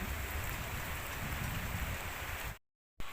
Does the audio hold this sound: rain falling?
yes